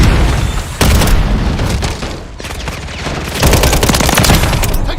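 Dense gunfire and booming blasts in a military video game shooter, loud and nearly continuous with rapid automatic bursts, a brief lull midway before heavy fire resumes, no talking.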